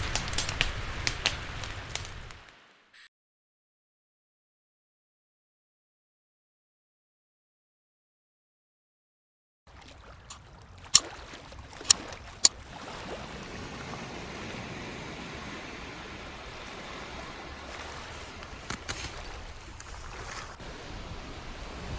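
Ocean surf near a beach campsite washes in a steady soft rush, broken by a long silent gap, then returns with a few sharp crackles or clicks over the continuing wave noise.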